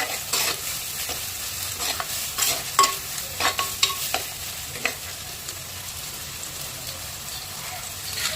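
Onions sizzle in hot oil in a home kitchen pan, a crackling fry broken by a series of sharp scraping stirs and clinks, fairly close and moderately quiet.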